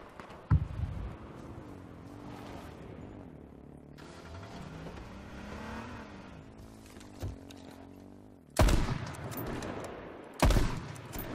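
Video game gunfire sounds in two loud, sharp bursts near the end, after a single early shot. A sustained tonal engine-like hum runs through the middle.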